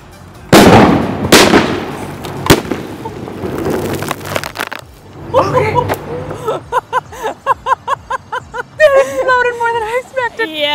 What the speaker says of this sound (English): Exploded more than I expected.